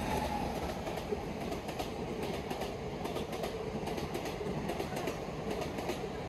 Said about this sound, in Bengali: এই যে সামনে ট্রেন আসছে এখন স্টেশন দিয়ে, দেখো এই হচ্ছে ট্রেন।